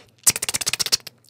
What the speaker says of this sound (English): trap hi-hats